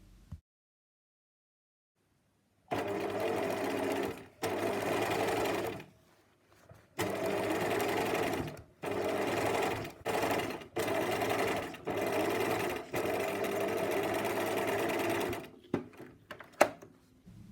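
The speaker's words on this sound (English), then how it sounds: "So I'm going to use that as a guide to sew the casings closed." A sewing machine stitches corset boning casings closed, running in loud, close bursts of steady stitching separated by short pauses, with no talking.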